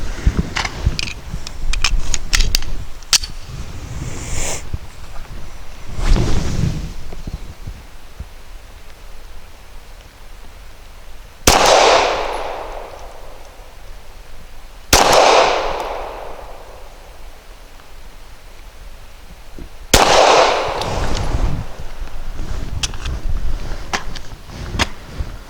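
A CZ P-10C pistol fires S&B 140 grain subsonic rounds, several sharp, loud shots spaced a few seconds apart outdoors, each with a short decaying echo, and no talk.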